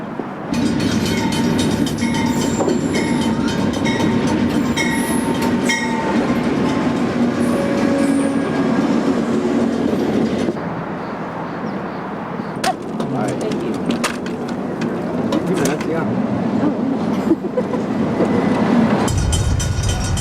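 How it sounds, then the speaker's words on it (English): An Amtrak passenger train departing Santa Barbara Station rumbles and clatters past steadily, with wheels clicking on the rails and metallic squeals, while people talk nearby before the noise drops away. "the Amtrak train is just leaving on its way to Seattle"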